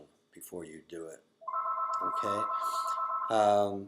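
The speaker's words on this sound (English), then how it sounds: "sorry about the phone call." An old-style telephone bell rings steadily for about two seconds and stands out clearly, with a person talking just before and over the end of the ring.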